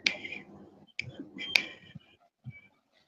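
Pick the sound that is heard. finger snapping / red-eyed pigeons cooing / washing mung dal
finger snapping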